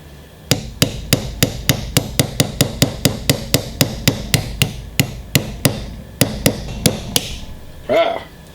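Hammer driving a rivet home on an SKS rifle, a close series of about two dozen sharp metallic blows in a steady rhythm with a brief pause near the end, followed by a short voice.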